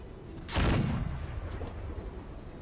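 A single artillery cannon shot in the Battle Cry of Freedom video game booms out sharply with a rumbling tail, set against a steady roar of hurricane wind.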